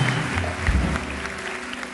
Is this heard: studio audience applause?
yes